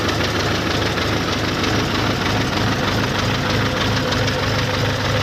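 A Jinma 40 hp mini tractor with a cab idles steadily nearby, a loud continuous diesel rumble with fine knocking texture and no change in pace, no voices over it.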